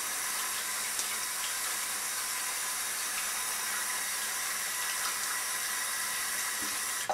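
Water runs from a tap in a steady, even hiss that stays constant and fairly close, ending with a brief knock.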